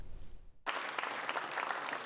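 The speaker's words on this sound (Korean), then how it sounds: "56차례 박수가 터져나왔습니다" Lawmakers in the National Assembly burst into applause during a presidential budget speech. After a brief hush the clapping starts suddenly and continues, steady and full.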